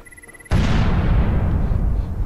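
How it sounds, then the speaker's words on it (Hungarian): An exploding barrel in the video game Lifeless Planet goes off as one loud, sudden boom after a quiet start, then a long roaring rumble slowly fades. "Ó, ez már robban is a hordó."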